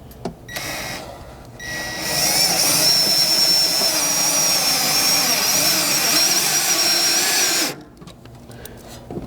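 A power tool drives self-tapping screws with washers through a 3/8 socket while mounting a Blitz bumper on a 2014-or-later Lexus GX460; one steady, loud whirring run of about six seconds, with quiet handling noise before and after.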